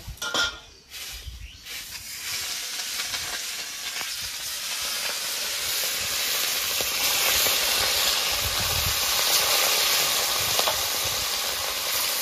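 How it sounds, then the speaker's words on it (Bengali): Rohu fish frying in hot oil in a kadai, a loud steady hiss that builds and holds for many seconds after a few clattering bumps at the start, with no talking. "আমার ওইদিকে কড়াইতে তেলটা গরম হয়ে গেছে, এবার মাছগুলো ভেজে নেব।"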